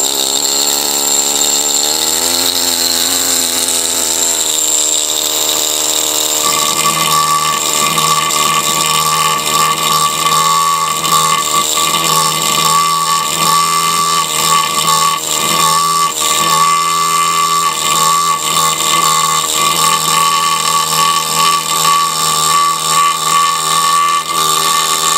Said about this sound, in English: I'm going to use the this chisel on the big jack and see what happens